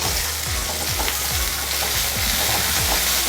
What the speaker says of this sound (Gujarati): શિમલા મરચું નાખ્યા પછી તેમાં ટામેટાં એડ કરીશું।